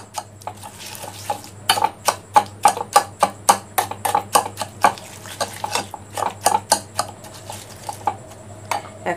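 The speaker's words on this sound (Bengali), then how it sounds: "টক দইটাকে ভালো করে ফেটে নেব।" A whisk beats about a cup of sour yogurt in a bowl, giving a steady run of sharp, rhythmic clinks and taps against the bowl, close and alone with no voices.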